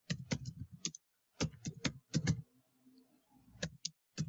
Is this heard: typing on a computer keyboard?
yes